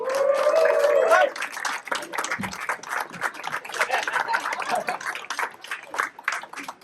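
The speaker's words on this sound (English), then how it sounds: "So, applause for all of these guys, and thank you very much." Audience applause at a chartered members dinner, a room of clapping hands that opens dense and steady, then thins into scattered, uneven claps with a voice or two mixed in.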